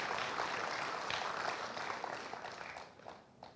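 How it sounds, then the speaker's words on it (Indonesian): A room full of people applauds women being honoured at a stunting-prevention awards talk show, a dense steady patter of clapping that stays loud before thinning out near the end. "Saya mohon tepuk tangan dulu untuk ini ibu-ibu yang luar biasa"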